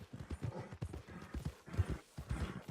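Horse hooves clip-clop at a steady walking rhythm in the Western open-world game Red Dead Redemption 2, close and fairly loud with a faint whinny, no speech over them.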